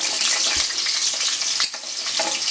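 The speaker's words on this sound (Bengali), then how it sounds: "ভালো করে নেড়ে চেড়ে এটা আমি ভেজে নেব" Drumsticks (moringa pods) and potato pieces frying together in hot oil with nigella seeds and dried chilli, a steady loud sizzle with brief stirring knocks, no voices.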